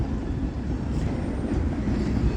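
A Union Pacific manifest freight train led by locomotive 1996 rolls past with a steady, broad rumble of wheels and cars, moderately loud and continuous.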